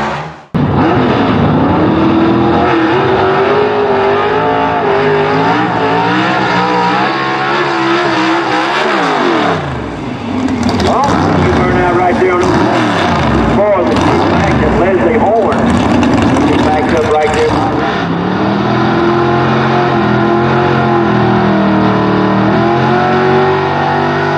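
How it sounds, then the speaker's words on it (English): A gasser drag race car tears down the racetrack at a Southeast Gassers Association season opener, a loud sustained engine roar with gear changes and rising revs, with a voice talking over it. "sounded like in that car going down the racetrack."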